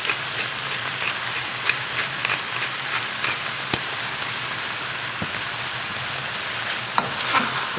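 Eel with onion wedges frying in a wok, a constant crackling sizzle broken by scattered clicks and scraping taps from tossing and stirring, close up with no speech.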